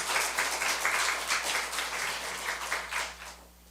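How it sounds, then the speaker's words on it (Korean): An audience at a church mission report applauds to welcome a speaker, with brisk, close clapping that carries on for a few seconds and then quickly dies away. "이게 박수로 한번 이렇게 환영해 주시면 고맙겠습니다"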